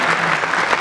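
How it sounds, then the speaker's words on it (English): A short burst of clapping from an audience, dense and fairly loud, cut off after under a second. "So a special applause for that performance."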